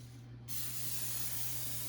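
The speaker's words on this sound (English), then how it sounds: "We're just gonna put some cooking spray on a 9x9-inch baking pan." Cooking spray hisses onto a 9x9-inch baking pan in one continuous burst, close and fairly soft, starting after a brief quiet moment and holding steady to the end over a faint background hum.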